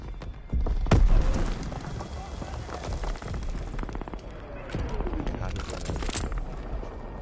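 Grenade blast in Call of Duty: WWII, a single heavy boom about a second in, followed by sustained gunfire and battle noise, with voices shouting over the combat.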